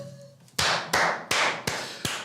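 Five sharp hand claps at a steady, slightly uneven rhythm, close and loud, each with a short decaying tail, following a brief quiet stretch with faint background tones.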